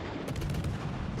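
Enemy destroyer's guns firing in the naval game World of Warships Legends, a quick cluster of sharp booming shots over steady rumbling noise.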